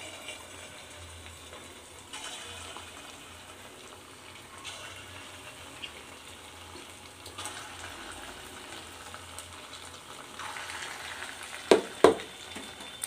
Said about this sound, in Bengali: বড়াগুলো সব হাতে জল নিয়ে এইভাবে সব ছেড়ে দিব